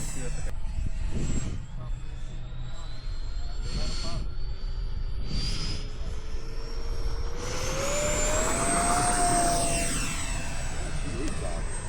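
A model aircraft engine whines overhead at an airfield, its pitch sliding steadily upward as it passes and loudest toward the end, with people talking over the sound.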